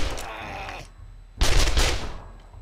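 Gunshots ring out in the video game 7 Days to Die, close and loud: a burst of rapid shots, a short lull, then a heavier, louder volley that fades away.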